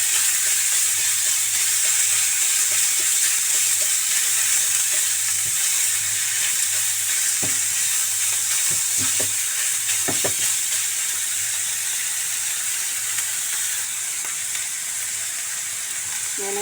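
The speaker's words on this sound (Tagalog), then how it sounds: "Hindi ko na siya lalagyan ng mantika kasi magmamantika naman yung karne sa giniling. Lalagyan ko na siya. Igigisa, isasalt ko lang ito." Ground meat sizzles steadily in a small pan with no added oil, browning for a taro spring roll filling, a dense even hiss broken by occasional scrapes of stirring.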